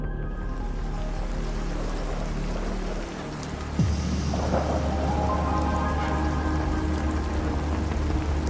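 Heavy stormy rain pours steadily on the way to Adam's Peak in Sri Lanka, a dense, continuous roar with a low rumble that swells partway through.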